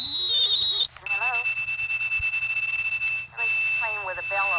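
A synthesizer playing a steady, slightly out-of-tune electronic tone over a telephone line, holding on and then shifting in pitch as it is adjusted, with warbling tones and a brief dropout partway through.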